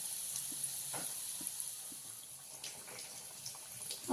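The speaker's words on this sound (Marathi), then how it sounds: "मी चांगलं तळून घेते." Katwada fritters deep-frying in hot oil give a quiet, steady sizzle with faint bubbling and small scattered pops throughout.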